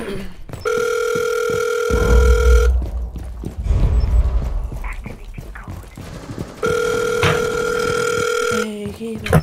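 Telephone ringing in a video game: two long ring bursts sound, one at the start and one again later, loud and electronic in tone, with a noisy gap in between.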